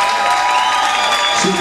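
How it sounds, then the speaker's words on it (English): A lively audience at a live club show claps and cheers loudly for a performer, a brief burst of close, energetic applause mixed with whoops and crowd noise. "join me in giving a big round of applause"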